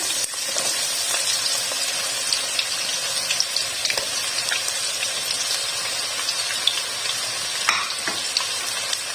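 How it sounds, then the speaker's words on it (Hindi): Onions frying in hot oil left over from chicken chips, a dense, loud, crackling sizzle that runs steadily throughout with scattered small pops and an occasional scrape, no talking. "अब उसमें प्याज डाल देंगे"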